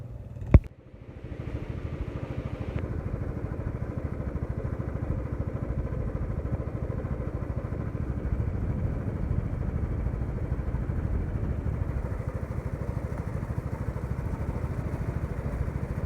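Motorcycle engines run steadily throughout on a ride to Upper Mustang, a continuous mid-pitched drone after a brief sharp click at the start, loud and close with no talk.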